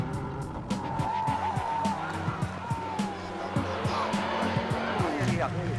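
Freddie Loix's WRC 2002 rally car races past at speed, its engine snarling through repeated gear changes and revs, with tyre noise and a rough, gravelly rush close by throughout.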